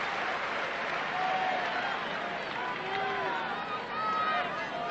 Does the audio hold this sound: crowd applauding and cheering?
yes